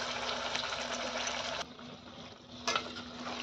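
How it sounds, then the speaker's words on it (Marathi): Ground masala paste frying in oil in a kadai while making kadai paneer, a steady close hiss and bubbling sizzle that dips briefly midway before swelling again. "आता यामध्ये वाटण केलेला मसाला तेलामध्ये घालून घ्यायचा आहे आपल्याला छान तो परतून घ्यायचा आहे"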